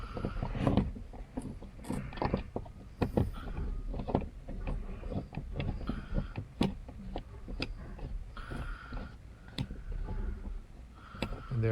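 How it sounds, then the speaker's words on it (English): Screws being taken out of a 2006–2012 Mitsubishi Eclipse door panel: repeated close clicks, taps and plastic rattles in an irregular rhythm, with a low background hum throughout. "I will begin removing the final screws to take out the piece that I'm after."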